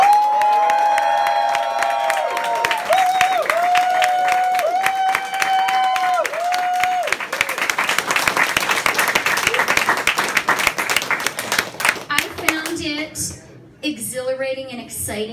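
A crowd at an election-night victory party in a Toronto pub cheers and applauds loudly and continuously for the Prime Minister, with whoops rising over the clapping before it fades into a voice speaking.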